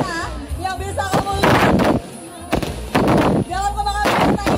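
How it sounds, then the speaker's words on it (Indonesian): Fireworks burst and boom during a Cap Go Meh celebration at Mangkunegaran, with repeated loud, close blasts and crackling rolling over a noisy festival crowd. "Dalam kembang api kita nyalakan untuk memeriahkan Mangkunegara makan-makan cap gome."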